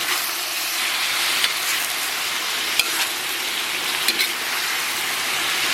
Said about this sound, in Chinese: 简单给它煸炒一下，然后咱们把五花肉给它倒里边